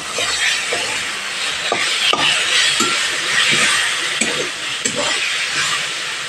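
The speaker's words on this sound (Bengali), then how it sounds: "আলুগুলো আমি দিয়ে দিলাম, ভালোভাবে কষিয়ে নেব 2 মিনিট ধরে।" Potatoes fry with spices in a pan while being stirred for a silver carp curry, giving a steady close sizzle broken by repeated scraping strokes of the spoon.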